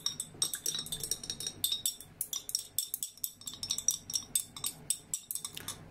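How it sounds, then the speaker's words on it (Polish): Nettle ointment mixed with a few drops of lavender oil and stirred in a small reused horseradish glass jar: rapid, steady metallic clinks and scrapes repeating in a brisk rhythm, close and clear. "I mieszamy."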